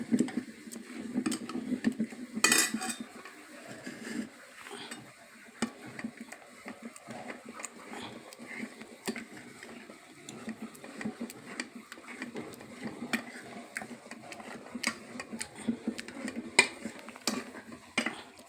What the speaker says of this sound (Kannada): ಬೇಳೆನ ಚೆನ್ನಾಗಿ ಮೆತ್ತಗೆ ಮಾಡ್ಕೋಬೇಕು.